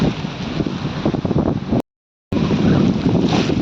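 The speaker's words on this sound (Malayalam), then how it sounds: "ഒരു രക്ഷയില്ല, അടിപൊളി കാറ്റും" Strong wind buffets the microphone at a hilltop viewpoint on a rainy day at Maniyanthram Mudi, a loud steady roar that cuts out briefly and then returns just as forceful.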